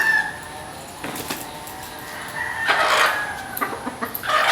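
A young broodstag rooster clucks and gives short, rough crowing calls at moderate distance, irregular bursts over a soft background of other fowl.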